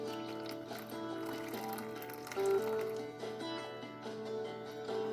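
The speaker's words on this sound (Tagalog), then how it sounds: "Hugasan natin ng mainit na tubig." Hot water poured over a slightly bitter ingredient to rinse it while preparing a breakfast dish at home, a soft continuous pouring and splashing under background music, with no talking.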